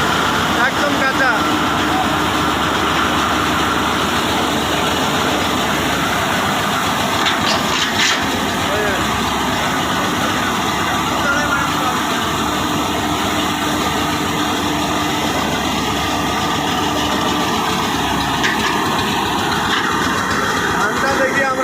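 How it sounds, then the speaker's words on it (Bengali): A paddy threshing machine at a village workshop churns through raw, freshly cut rice bundles with a loud, constant engine drone and rattling hiss that never lets up, heard close. "একবারে কাঁচা আটি মারাই করতেছি আমরা"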